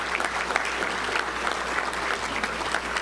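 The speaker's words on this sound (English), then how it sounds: "Let's give a round of applause to Simmons and all of our great sponsors here today" A luncheon crowd at a touchdown club gathering applauds Simmons Bank and the sponsors, a steady burst of clapping over a low room hum.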